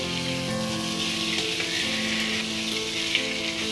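Spinach and potatoes sizzle in a pan with garlic while being stirred, giving a steady, close frying hiss with faint scraping and no talking.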